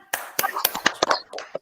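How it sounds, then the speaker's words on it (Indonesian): A group of peers does a rhythmic clapping game, a patterned sequence of sharp, close hand claps and taps with uneven gaps, mixed with short spoken calls. "Tepuk semangat dulu."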